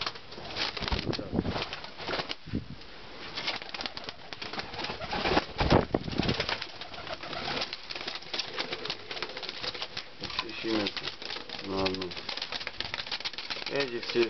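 A flock of pigeons coos and flutters, with repeated soft cooing and bursts of flapping wings heard close by under a man's speech.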